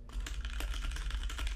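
Rapid typing on a computer keyboard, a dense, steady clatter of key presses heard alone and close up.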